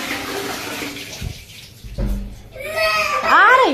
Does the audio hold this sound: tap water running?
yes